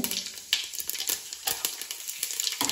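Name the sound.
cumin seeds sizzling in hot oil for paneer biryani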